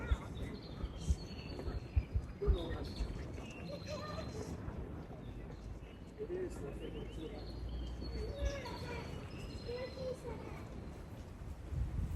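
Scattered bird chirps come and go at a distance over a busy outdoor background in Hilo, Hawaii, with indistinct voices now and then.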